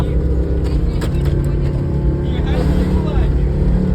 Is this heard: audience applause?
no